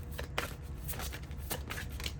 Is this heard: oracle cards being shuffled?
yes